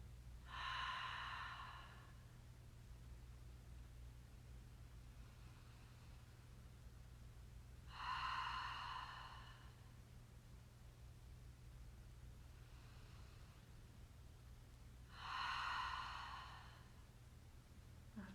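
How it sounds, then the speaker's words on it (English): Three slow, deep cleansing breaths during a yin yoga session, each a soft airy exhale spaced about seven seconds apart over a steady low hum, with no talking. "let's take 3 cleansing breaths to close out this pose"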